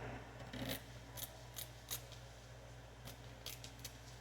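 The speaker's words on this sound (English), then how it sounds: "Now we're going to get my scissors, if I haven't lost them somewhere. And we're going to finish cutting this bad boy out." Scissors snip through paper while cutting out a painted owl: quiet, close, irregular cuts and rustles over a low steady background hum.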